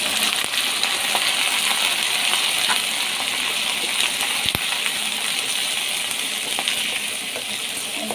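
Beef liver frying in a pan with golden brown onions gives a steady, loud, dense sizzle that holds evenly throughout, with a brief clink partway through.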